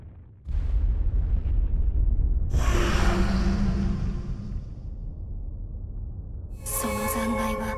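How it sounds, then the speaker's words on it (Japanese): A huge explosion of the giant war machine Tarasque in Fuga: Melodies of Steel 2, with a deep rumbling blast, a second roaring burst, then a long sustained rumble and a bright ringing tone at the end. "眩しい閃光とともにタラスクスは大爆発を起こした。"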